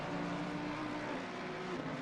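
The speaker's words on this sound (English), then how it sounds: "On the brakes now, down to second gear for Tamburello." GT race car at Imola in Assetto Corsa Competizione, engine droning steadily with a held tonal whine, faint and even throughout as it brakes and drops gears, no talking.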